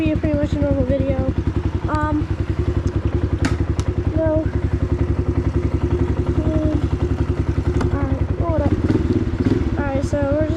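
A small pit bike engine runs while being ridden through wet woods, giving a steady, loud, rapid buzzing putter with occasional clattering bumps and a voice talking over it.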